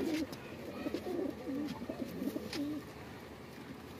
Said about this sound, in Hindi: ये रामपुरी गहरा परिंदा है।